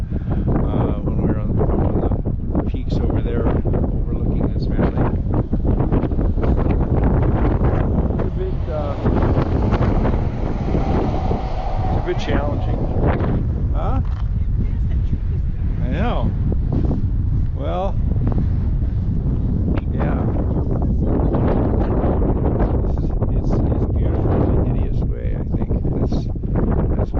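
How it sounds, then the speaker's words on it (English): Strong gusting wind, around 60 to 70 mph, buffets the microphone at an overlook above a desert canyon valley, a loud continuous roar with someone talking over it. "The wind is really messing with everything."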